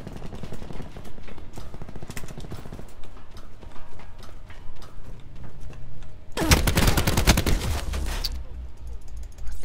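Rapid bursts of gunfire crackle in Call of Duty Black Ops 4 multiplayer, with scattered shots giving way to one dense, loud volley near the end and quieter clatter around it.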